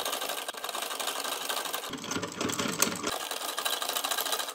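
Sewing machine stitching a frill with contrast-colour thread, a steady mid-pitched motor whir running continuously with a brief heavier rattling stretch partway through.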